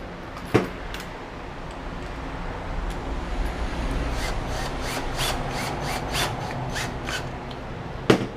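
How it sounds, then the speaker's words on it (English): Washer and hardware being screwed onto a navigation light mount, a continuous close rubbing, scraping rasp with a couple of sharp clicks at the start and end, and no voices. "I'm putting that underneath through this, and then I'm just screwing it right onto there."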